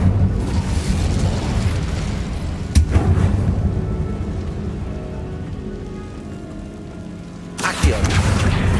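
Incendio fire spell cast in the Hogwarts Legacy video game, heard as a sharp burst followed by a sustained crackling, rushing roar that fades, then another abrupt blast near the end.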